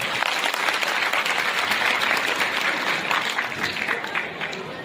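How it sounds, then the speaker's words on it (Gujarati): An audience claps at a school annual function in a town hall, dense sustained applause from a large crowd that fades slightly toward the end, with faint crowd murmur mixed in. "એના માટે જોરદાર તાળીઓ થઈ જાય"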